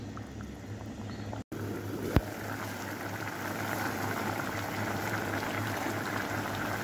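Mutton boils in water in a pot, a steady, dense bubbling that runs throughout, broken only by a momentary dropout and a single sharp click.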